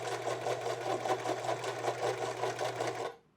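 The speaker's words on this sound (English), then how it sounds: "I'm going to mark that spot and then stitch from here around and up to that point." A sewing machine stitches a zipper fly on pants in a close, steady rapid chatter with an even rhythm, running continuously for about three seconds before stopping abruptly.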